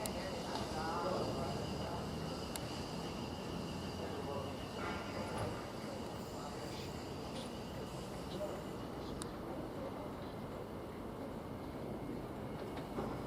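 The London Waterloo to Portsmouth Harbour train pulls out of Basingstoke station, a steady low rumble of wheels and carriages with faint squeals, heard from the platform at an even level throughout.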